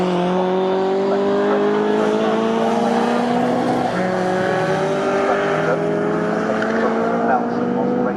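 Classic race cars in a CSCC K Series race on the Snetterton circuit, engines droning loudly and steadily with rising and falling pitch as they run down the straight, several machines overlapping close by.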